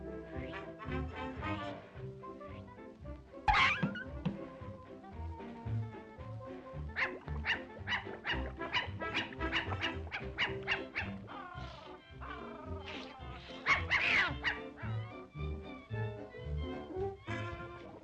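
A small dog yips and barks in quick, uneven bursts through a busy, faint background of other sounds, with a couple of sharper, louder yelps standing out.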